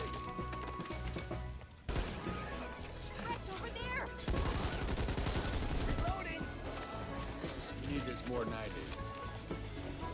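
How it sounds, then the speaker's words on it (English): Rapid sustained LMG machine-gun fire in the zombie shooter Back 4 Blood, dense continuous bursts mixed with game effects and a person talking over it. "I feel like a little portable minigun with this build."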